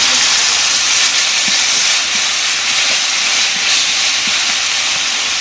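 Cumin paste, with cumin seeds and bay leaf, sizzles loudly and steadily in hot oil while a Bengali fish curry of magur catfish and taro is cooked, a dense hiss with faint pops and no talk.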